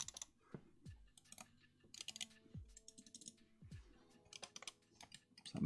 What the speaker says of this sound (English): That mouse clicking ASMR.